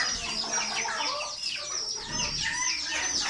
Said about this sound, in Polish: Kura.